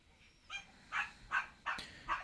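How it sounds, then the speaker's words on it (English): A dog barks five times in short separate bursts at moderate distance, spaced roughly every half second, with no talk over it. "I know my dog is barking, okay?"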